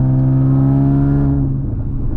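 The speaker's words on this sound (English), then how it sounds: "around 3K you can hear that trumpet noise that I was talking about" Audi B8.5 S with an Armytrix valved catback exhaust, heard from inside while cruising back roads around 3,000 rpm. A loud, steady droning trumpet-like tone that eases off near the end.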